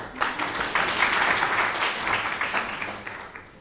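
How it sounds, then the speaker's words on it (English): Attendees at an environmental workshop on marine green infrastructure applaud a speaker being introduced, a moderate round of clapping that swells quickly and holds steady before easing off. "applause."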